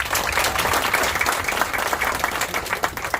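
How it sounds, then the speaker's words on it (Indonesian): A large audience gives a loud, dense round of applause for a man's child at a gathering. The clapping is close and continuous, with no talking over it. "Tepuk tangan buat anak saya"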